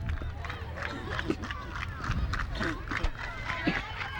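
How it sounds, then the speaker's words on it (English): Spectators at a high school state tournament softball game shout and holler from the stands, a busy, fairly distant mix of raised voices and calls carrying steadily throughout. "Lebanon crowd trying to rally their team."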